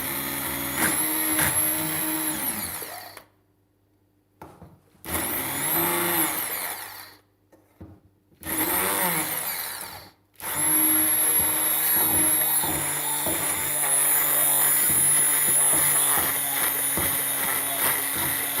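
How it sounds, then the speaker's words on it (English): A loud, steady motor whir from a malfunctioning handheld immersion blender, cutting out twice in short gaps before resuming and running continuously to the end. "Why isn't my immersion blender working?"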